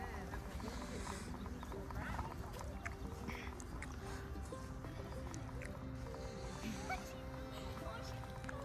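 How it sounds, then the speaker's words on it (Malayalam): Several horses, three of them young, clip-clop as they run, a steady busy patter of hooves over continuous background noise, with voices talking at times. "കുതിര ഓടുന്നു"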